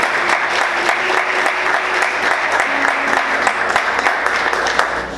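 Worshippers in a church applaud together after a prayer. The clapping is full and continuous for about five seconds, with faint voices and a low hum in the room beneath it.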